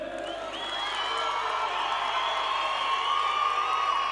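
A large crowd at a political rally and party congress in Van, cheering and applauding in a steady, sustained wash of shouts and clapping, with no break across the few seconds.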